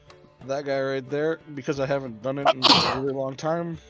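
A single sharp sneeze bursts out midway through steady talk among players at a tabletop Dungeons & Dragons session, loud and close, with the voices continuing around it.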